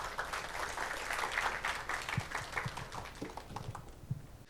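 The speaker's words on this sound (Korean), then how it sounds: "권기성 대표님 큰 박수 부탁드리겠습니다" Audience applause at a Korean social-innovation conference as a company CEO is welcomed to the stage, a sustained round of clapping from a large crowd that thins toward the end.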